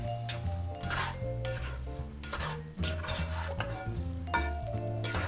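A spoon stirs tomato sauce for spaghetti bolognese in a pan, scraping and sloshing in steady strokes close by over a soft sizzle, with no talking.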